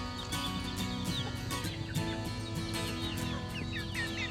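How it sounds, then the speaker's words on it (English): Chickens and a rooster on a farm cluck and call in a busy, continuous chorus, with overlapping clucks and squawks at close to moderate distance and no talking. "I know this guy's a rooster."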